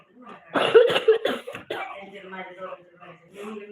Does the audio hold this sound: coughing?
yes